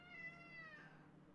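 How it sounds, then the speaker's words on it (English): A pet cat gives a single drawn-out meow lasting over a second, close by but soft, with a slightly wavering pitch that slides downward, heard alone without talk. "the cat is here to say hello"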